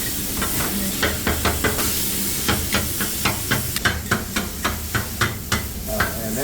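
Chicken sizzling on a hot griddle as a metal spatula chops it, producing a steady run of sharp, evenly spaced clacks over a constant hiss of frying.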